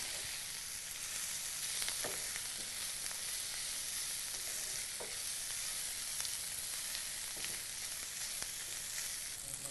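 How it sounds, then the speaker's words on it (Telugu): Prawns tossed with salt, chilli and garam masala sizzle steadily in a hot pan, a continuous frying hiss broken by occasional scraping stirs, close and fairly loud with no talking. "ఉప్పు కారం అలాగే గరం మసాలా మొత్తం బాగా కలిపేశానండి"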